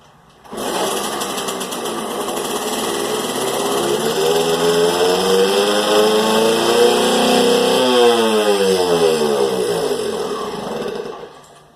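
A 1982 Yamaha QT50 moped, first started since '96, buzzes to life and revs high and steady, the small two-stroke engine whining up and easing down close by before cutting off.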